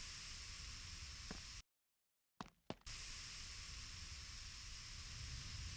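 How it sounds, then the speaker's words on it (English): A spray gun applies clear coat in a garage, giving a steady close hiss. The hiss cuts out for a moment, returns with a couple of short bursts, then carries on evenly with no talk. "A lot of people like watching clear get sprayed, so I thought I would let them film a bit more."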